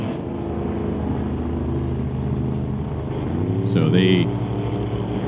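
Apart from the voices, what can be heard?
drag race Corvette engine on throttle stop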